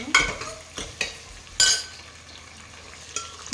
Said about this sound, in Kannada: ಎಣ್ಣೆ, ವೆಂದ್ಯಂ, ಈರುಳ್ಳಿ, ಎಣ್ಣೆ ಹಾಕಿ ಬಾಡಿಸ್ಕೊಬೇಕು